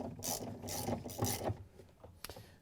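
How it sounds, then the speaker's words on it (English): A ratchet with a 7/16 inch socket on a long extension tightens the agitator bolt inside a Whirlpool washer tub, giving a few quick bursts of close, crisp clicking. "we can use our 7/16" socket and a long extension with the ratchet to tighten it down"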